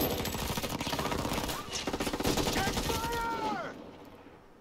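Enemy gunfire bursts through a Ghost Recon Breakpoint firefight, dense rapid automatic shots rattling continuously and loudly for several seconds before tapering off, with whooshing game effects over the top.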